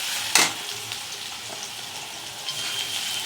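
Finely chopped ginger and garlic frying in a pan, with a steady bright sizzle and a sharp scrape of stirring near the start, then a few lighter stirs, close and fairly loud.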